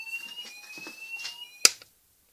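A mini fire alarm under test gives a steady, piercing electronic tone with faint handling noises beneath it, then a sharp click, and the tone stops abruptly, leaving silence.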